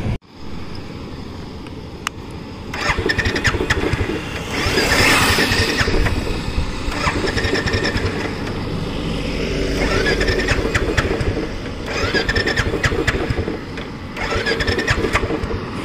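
Royal Enfield Classic 350 motorcycle with a dry fuel tank being cranked: several loud starter bursts of churning engine noise come in separate attempts, each stopping without the engine catching into a steady idle.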